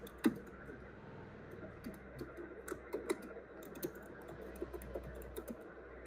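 Keys on a computer keyboard click in quick irregular bursts, close and fairly quiet, with occasional louder taps.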